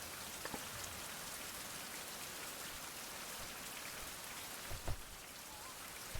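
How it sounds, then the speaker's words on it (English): Steady rain pours down outdoors, a dense continuous hiss with a few louder drops and taps standing out near the end; no one speaks. "I'm going to go out in the rain"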